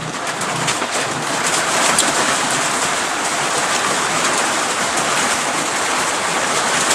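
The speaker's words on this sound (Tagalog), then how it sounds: "Yan, nagsiulan na. Umulan na naman." Steady rain falling, a dense continuous hiss of drops pattering on surfaces, close and even throughout, with pigeons faintly cooing in the background.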